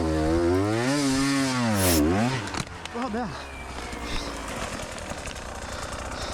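A motorcycle engine revs hard during a hill climb, its pitch sweeping up and down before a loud crash as the bike falls, then a mix of engine noise and clatter; a man swears briefly.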